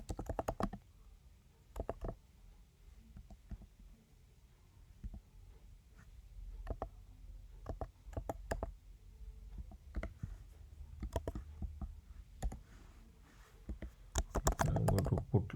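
Steady computer keyboard typing while code is written for a Laravel e-commerce site, irregular clusters of close, crisp key clicks running throughout with short pauses and a busier flurry near the end.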